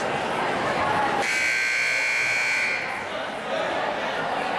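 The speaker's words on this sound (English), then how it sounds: "There's the buzzer to get things going." A long, loud electronic buzzer blares for about a second and a half over a noisy, murmuring crowd at a high school basketball game, then cuts off as the chatter continues.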